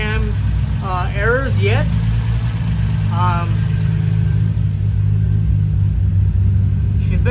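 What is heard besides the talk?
car engine idling after cam and crank sensor fix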